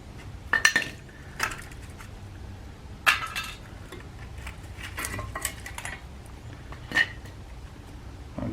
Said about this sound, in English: So now I'm going to go ahead and get the brake pads off.